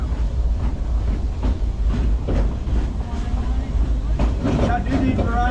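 A Silver Dollar City theme park train rumbles steadily as it starts to move, with a continuous low rolling drone and faint clicks over the rails, under a conductor's ongoing talk.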